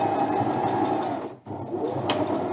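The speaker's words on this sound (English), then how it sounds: "then sew all the way down to my initial sewing from when I put the base in" A sewing machine stitches a plant pot cover in a steady, close, continuous whir, pausing for an instant midway before running on.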